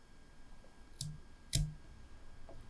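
Scissors snip yarn on a crochet and pompom hair-tie project, giving two quiet, sharp clicks about half a second apart and then a fainter tick, set against a near-silent room.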